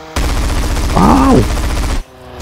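Gunfire from GTA San Andreas rattles as a dense, continuous burst of rapid shots that lasts about two seconds, with a brief whooshing sweep in the middle and a short voiced exclamation.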